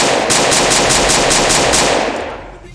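Rapid automatic gunfire from the Roblox Advanced Gun System video game, a loud, steady stream of evenly spaced shots that runs for several seconds and then trails off at the end.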